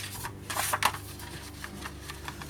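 Paper for a scrapbooking folio is cut by hand, heard as a few close, crisp snipping and slicing strokes with soft rubbing in between.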